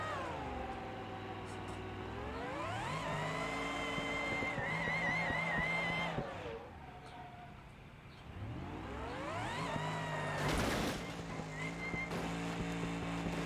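A car engine in the game BeamNG or Project CARS whines up and down through gears while tires squeal in long skids, with a sharp burst of noise near the end.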